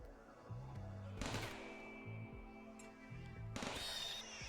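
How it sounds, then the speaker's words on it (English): Gunfire from colonists shooting at an area during a hunt in the game Rimworld, heard as a few short, fairly quiet shot bursts spread through a steady game backdrop. "I'm actually shooting an area, not the animal"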